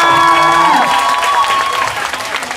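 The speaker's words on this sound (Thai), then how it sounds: "เดี๋ยวังเสียงปรบมือให้จีนกับมิวด้วยค่ะ" A concert audience claps steadily in a dense, loud wave, with a sustained musical tone fading underneath during the first second.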